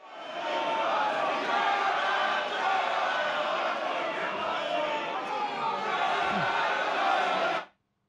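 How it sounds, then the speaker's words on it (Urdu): Sunni Ittehad Council members crowd around the speaker's dais in Pakistan's National Assembly, a dense roar of many voices chanting slogans together, loud and continuous until it cuts off abruptly. "سنی اتحاد کونسل کے اراکین نے اسپیکر ڈائس کا گھیراؤ کر لیا اور نعرے بازی کرتے رہے"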